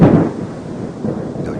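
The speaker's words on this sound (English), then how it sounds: "listening to the sound of rain in the tent" Rain and thunder beat down on a tent, a brief heavy rumble opening loudly and then settling into dense, steady patter.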